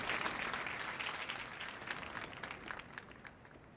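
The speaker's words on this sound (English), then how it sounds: "let's give him a warm round of applause, please, as he comes up to do that." Audience applause fills a hall at the World Bank Annual Meetings as a speaker comes up to the stage, a dense, steady patter of many hands that holds for several seconds and slowly thins toward the end.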